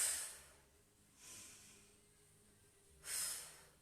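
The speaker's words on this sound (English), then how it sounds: "And we're going to breathe in." A person breathes in during a guided core exercise in a live fitness class, with three soft, airy breath sounds, the last one the loudest and closest, and quiet in between.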